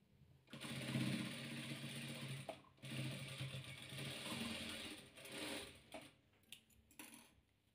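A sewing machine stitches together blue, grey and beige patchwork fabric pieces for a chain-pattern quilt, running in several steady bursts separated by short pauses, fairly close and moderately loud with no talk.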